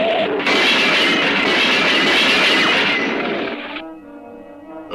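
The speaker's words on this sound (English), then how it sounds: "A wreck. We've had a train wreck." A cartoon train wreck crashes in a loud, dense burst of crunching and clattering that holds for several seconds, then drops away into a fainter ringing, settling tail.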